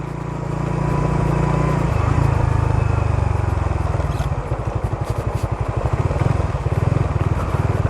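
Motorcycle ridden along a rough off-road trail near Malagundi Point in Lobo, Batangas, engine loud and close, revving up then chugging unevenly with pulsing throttle and rattling over bumps.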